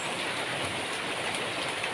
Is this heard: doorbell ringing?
no